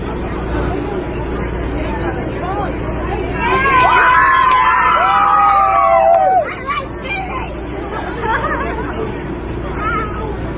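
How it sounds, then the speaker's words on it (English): Protesters gathered outside a house yell and cheer as a crowd, their shouting rising in a louder burst midway through before settling back into a steady hubbub, with voices mixed throughout. "The protesters who are out here yell and cheer when they see Caylee Anthony in handcuffs."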